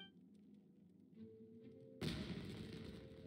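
Fireworks go off in the video game Genshin Impact. A soft, low tonal background gives way to a sudden loud burst, followed by sustained crackling noise that stays loud until the end.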